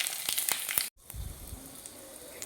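Dry red chillies, five-spice and a bay leaf hit hot oil while shukto is being made, giving a bright sizzle, a short silent cut, then softer crackling frying with low clatter.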